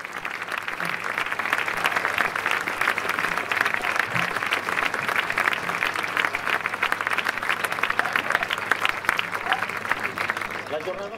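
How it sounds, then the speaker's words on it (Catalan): Sustained applause from an audience at a recognition ceremony in Reus honouring people who made the 1 October vote possible, steady and dense throughout with a faint voice underneath. "Un aplaudiment."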